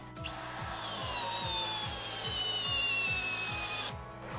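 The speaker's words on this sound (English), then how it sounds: "Another way of standing the deck up is using a drill and a 5/8 socket," A power drill with a 5/8 socket turns a mower deck lift, whirring steadily for a few seconds, its motor pitch holding constant with a rhythmic ratcheting beneath, then stops.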